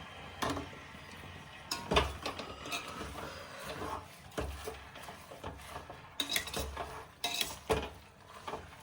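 A spoon stirs green chilli pickle with jaggery, salt and black pepper in a bowl, giving quiet, irregular clinks and scrapes spread across several seconds, close by and unaccompanied by speech.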